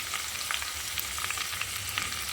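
Chopped onions fry in a pan, giving a close, steady hiss and crackle with small popping bursts throughout, with no talking.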